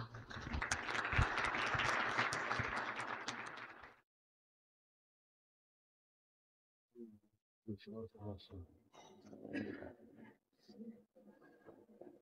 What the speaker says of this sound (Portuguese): Vamos recebê-los, então, com muito carinho, uma salva de palmas.